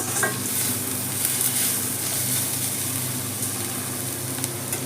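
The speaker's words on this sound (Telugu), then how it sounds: "లో ఫ్లేమ్లో వేయించేసుకోండి." Vegetables for garlic rice stirring and frying in a pan over a low flame, giving a steady close sizzle with scattered scraping spoon strokes throughout, no voices.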